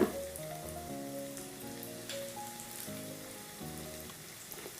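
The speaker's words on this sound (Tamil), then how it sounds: "ஒரு ஸ்லைஸாக போட்டு நல்லா ஃப்ரை பண்ணிடலாம்." Bread slices frying in hot peanut oil for bread halwa, a soft, steady sizzle with faint crackles under quiet background music, no talk.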